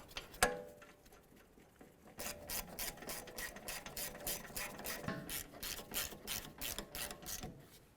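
A ratchet tightening the rear brake caliper bracket bolts on a Dodge Journey, a rapid run of crisp clicking pawl strokes in steady rhythm, close but fairly quiet.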